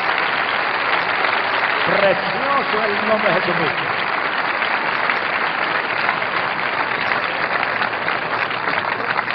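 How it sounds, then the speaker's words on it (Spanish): Sustained applause from a church congregation at a preaching service, a thick even wash of clapping that runs the whole time, with a preacher's voice briefly speaking over it near the start. "Más fuerte, porque está Jesucristo el aplauso."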